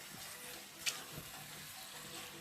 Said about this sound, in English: Now what I want to do is just saute this for a little bit.